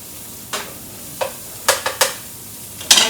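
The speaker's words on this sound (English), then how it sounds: "I have a little bit of olive oil in my pan. I'm going to saute these onions" Chopped onions sautéing in olive oil in a pan, heard as a soft steady sizzle broken by several short scraping stirs, spaced irregularly and close by, with no talking.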